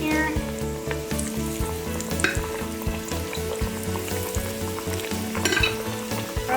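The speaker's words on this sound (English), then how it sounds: "now we're ready to fry up our eggplant. We've got our nice hot oil here, and we'll drop our eggplant slices in here." Eggplant slices deep fry in a basket of hot oil, a dense, loud bubbling sizzle mixed with background music and occasional clanks.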